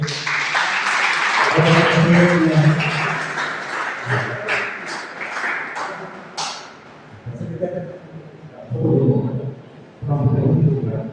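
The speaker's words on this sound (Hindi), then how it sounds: "तो भाई जी के एक बार ताली बजाए भाई जी के लिए" An audience at a yoga and meditation gathering claps for an invited guest, a busy burst of applause for several seconds that thins out as a voice talks over and after it.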